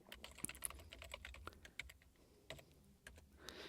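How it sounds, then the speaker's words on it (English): Username typed on a computer keyboard, a soft, close patter of quick key clicks at an uneven pace, quiet and alone. "I'm going to just type in the username here."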